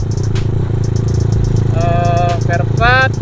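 A Honda Tiger motorcycle engine runs steadily with a low, even throb and some mechanical clatter, while someone talks over it throughout.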